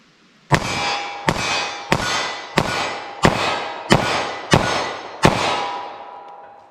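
Eight rapid .45 ACP pistol shots using Federal Train + Protect ammunition are fired at a target from a short barrel, each a loud sharp crack with a ringing decay. The shots come at an even, quick cadence, close to the listener, with no talking.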